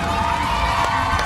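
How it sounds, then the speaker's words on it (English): A crowd cheers and applauds for a cheerleader named Miss Scott at a cheer competition, a loud, dense, continuous wash of clapping and shouts with no break. "How about a big round of applause for Miss Scott?"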